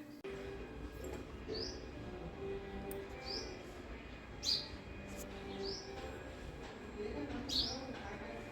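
Birds chirp in the early morning, a few faint, scattered tweets rising over a quiet, steady background hum.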